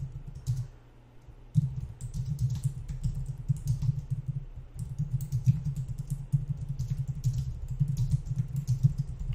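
Steady, close computer keyboard typing runs for several seconds in fast irregular clicks, with a short pause near the start and no talking.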